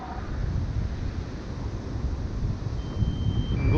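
Strong gusting wind buffets the microphone outdoors where a drone is being hand-launched, a continuous loud rumbling roar with slight surges and no voices.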